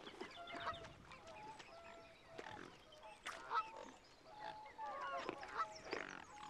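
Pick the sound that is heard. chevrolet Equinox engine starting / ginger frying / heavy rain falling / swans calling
swans calling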